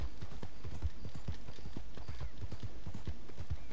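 Horse hooves clip-clop steadily in Red Dead Redemption 2, a close, rhythmic run of many hoofbeats from a small in-game horse, alone without talk.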